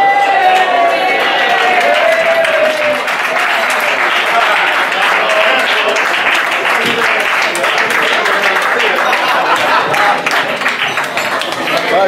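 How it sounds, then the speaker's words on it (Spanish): A crowd at a historic vehicle rally award ceremony on the Costa del Sol breaks into loud, sustained applause, with cheering and voices mixed in throughout. "Buen aplauso."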